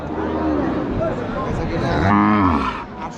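A heifer gives one loud, drawn-out moo close by, amid crowd noise and chatter at a cattle market.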